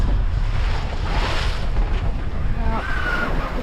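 Ocean waves wash continuously around a sailboat far offshore, a steady broadband rush mixed with wind buffeting the microphone, loud and unbroken throughout.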